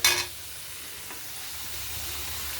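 Onion with ginger-garlic paste frying in a pan while being stirred, a brief scrape at the start followed by a low, steady sizzle that stays faint throughout.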